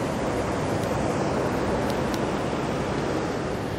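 Water rushes steadily through a flow-control structure at Double Trouble State Park, a broad, continuous noisy roar that stays level throughout, close by, with no talking.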